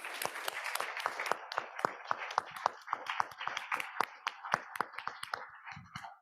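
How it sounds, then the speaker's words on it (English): A small audience at a civic leadership award event applauds the speakers, with distinct individual claps spaced out and fairly sparse, moderately loud and fading toward the end. "So will you please join me in applauding our speakers?"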